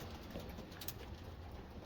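Soft, low cooing of a racing homer pigeon, faint against a steady background hiss, with a brief higher chirp partway through.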